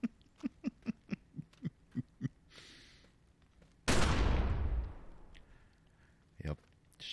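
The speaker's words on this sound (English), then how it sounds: "Shotgun seems to do the damage." A single loud shotgun blast rings out in the video game The Secret World, decaying over about a second, after a run of regular soft thumps, with faint game sounds around it.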